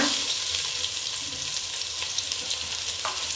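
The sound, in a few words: onions frying in oil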